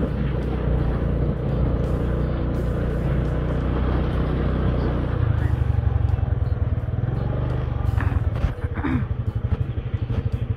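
A rented scooter ridden through the streets of Jaisalmer, with a steady, loud engine drone and wind rumble throughout and road clatter near the end.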